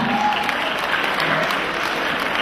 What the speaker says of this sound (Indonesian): tepuk tangan untuk Imelda